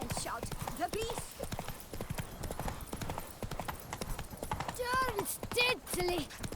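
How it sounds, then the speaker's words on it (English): Horse hooves clip-clop in a steady galloping rhythm in The Witcher 3: Wild Hunt Blood and Wine on PlayStation 5, with voices speaking over the hoofbeats throughout. "Run, Roach"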